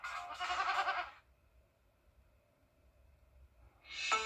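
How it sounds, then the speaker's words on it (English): Goats bleat in a TV commercial for an injury law firm, a loud burst of bleating followed by a quiet pause, then another bleat at the end. "What's with all the goats?"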